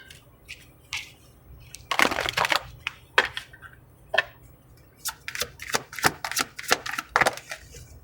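A tarot deck being shuffled by hand, with irregular bursts of riffling and sliding cards and sharp snaps between short pauses, heard close and on its own without speech.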